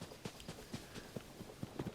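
A horse's hooves clip-clop at a steady walking rhythm in the video game Zelda: Tears of the Kingdom, about eight soft, evenly spaced thuds that stay close and fairly faint, with no talking.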